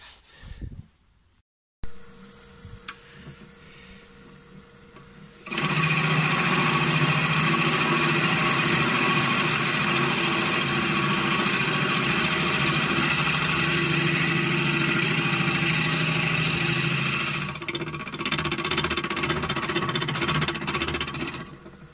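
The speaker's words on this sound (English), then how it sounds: "now I will take a Forstner bead and make a hole inside" A wood lathe turns a tealight holder while a Forstner bit bores a hole into the wood. After a few quiet seconds with small knocks, a loud steady whirring drone runs for about twelve seconds and then eases to a lower hum.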